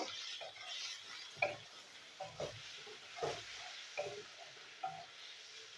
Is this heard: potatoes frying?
yes